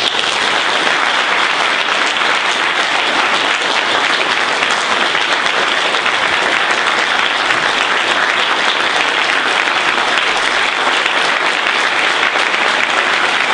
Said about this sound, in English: be upstanding and vociferous in your applause for all of those people